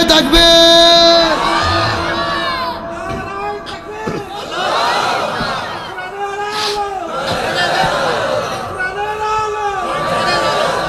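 A large crowd at a Bengali Islamic sermon gathering in Satkhira shouts takbir in response to the preacher, loud massed voices rising and falling in repeated waves of chanting.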